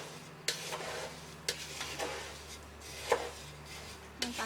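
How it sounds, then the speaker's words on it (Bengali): Puffed rice mixed with chanachur being stirred, producing rustling, crunchy scrapes and a few sharp clatters at irregular intervals, heard close and fairly quiet with no talk. "এখন আমি আবার নাড়ছি"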